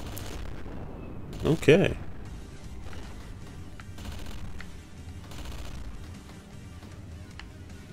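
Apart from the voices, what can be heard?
gunfire from video game Gigantic Army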